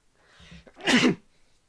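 A single sharp human sneeze bursts out close to the microphone, preceded by a brief soft intake of breath, then quiet.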